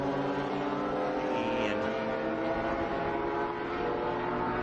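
A BMW race car, the number 32 entry, runs on the track at Utah Motorsports Campus during a qualifying session, its engine a steady, loud, sustained drone with a constant mechanical hum and no clear pass-by swell.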